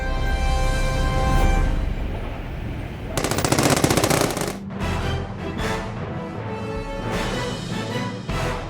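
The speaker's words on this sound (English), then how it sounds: "Spider-Man is being called a hero for putting an end to a Wild West-style gun battle on the streets of New York." Rapid machine-gun bursts and gunshots from a street gun battle in New York in The Amazing Spider-Man 2 video game, loud and dense, with a sustained volley around the middle and further sharp cracks throughout.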